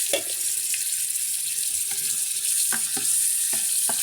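White onion added to hot cooking oil in a pan sizzles and spits steadily at close range, with a few sharp crackles and taps of a utensil over a continuous hiss.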